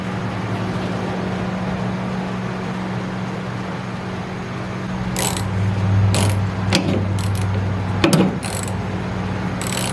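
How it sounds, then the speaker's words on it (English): A clutch head screwdriver works a screw on a truck door, giving several short metallic clicks and scraping ratchety bursts after a stretch of quiet background hum. "See if I can use clutch head screwdriver here."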